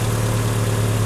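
A Mercedes-Benz W123 230TE, just repaired after a faulty fuel distributor, idles at about 900 rpm with a steady, close, even low hum and no voices over it.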